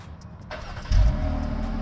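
The 3.2-liter V6 of a 2021 Jeep Cherokee Limited High Altitude starts by remote with a soft crank, then a loud catch and settles into a steady, close idle.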